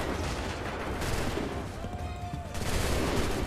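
Musket volley fire from ranks of soldiers in Assassin's Creed III, a steady crackling fusillade with booming reports that surges again near the end, loud and close, with a faint shout briefly under it.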